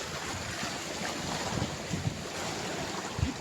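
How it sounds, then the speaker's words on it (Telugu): Ocean waves wash onto a beach at Vizag, a continuous broad roar of surf mixed with heavy wind buffeting the microphone, with a few low thumps and no voices. "బీచ్"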